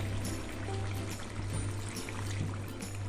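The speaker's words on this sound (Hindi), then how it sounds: "ये अब यहाँ पे हम ऐड कर रहे हैं पानी।" Water pours steadily into a pot of lauki chicken curry, a continuous close splashing stream that holds its level throughout with a low kitchen hum beneath and no talking.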